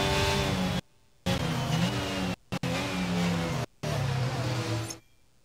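F1 22 race cars run in a pack behind the safety car on the Azerbaijan circuit, with loud, steady engine drones and shifting pitches broken by a few abrupt cuts, fading out at the end.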